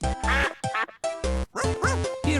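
A cartoon duck at a boat pond quacks repeatedly in loud, close bursts, several squawky calls in quick succession with brief gaps between them.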